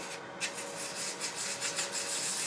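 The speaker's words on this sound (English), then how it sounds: "Go ahead and hit that with a few grits of sandpaper." Sandpaper rubbing a turned wooden shawl ring on the lathe, a steady close hissing scrape with quick rhythmic strokes over a continuous spinning hum, no talk.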